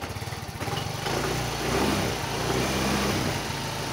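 A motorcycle engine that had been flooded, running after troubleshooting with its gear oil and engine oil changed and the air filter put back, revving steadily and close by with a rough mid-range roar that swells after the first second.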